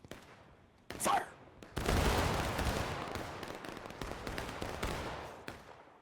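Musket volley fire in a large Civil War video game battle with around 250 players: a brief crack, then a loud massed volley bursting out and rolling into sustained, crackling gunfire that slowly tails off.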